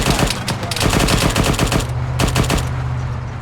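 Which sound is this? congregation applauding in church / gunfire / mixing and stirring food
gunfire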